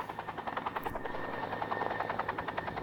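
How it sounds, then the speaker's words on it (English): An old Vietnam-era Huey helicopter used by a county fire department for water-drop practice flies overhead with a steady, loud rhythmic rotor thump. "it's a Huey Hog, so that's like 45 plus years old helicopter"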